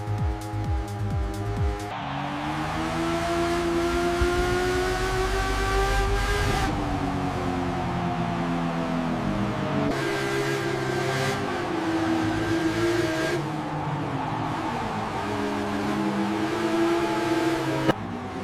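Video-game race at Old Spa between a Kawasaki Ninja H2 and a Bugatti La Voiture Noire, with loud sustained engine drones rising and falling through gear shifts, several abrupt cuts, no talk.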